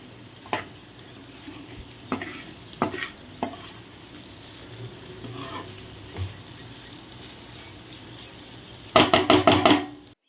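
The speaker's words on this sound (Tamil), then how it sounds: "நல்ல ஒரு கிளறு கிளறி அந்த எண்ணெயில் அப்படியே கிளம்பு" Blood fry sizzling and frying in oil, with occasional scraping stirs of a spoon against the pan and a burst of quick clattering stirs near the end.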